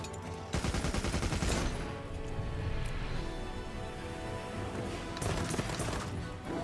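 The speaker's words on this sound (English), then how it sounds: "So this is the heavy bowgun rapid fire, and as you can see, it's much slower." Heavy bowgun rapid fire in the video game Monster Hunter Wilds: a loud, sustained volley of repeated gunshots with dense rattling bursts, swelling at the start and again near the end over a continuous bed of battle noise.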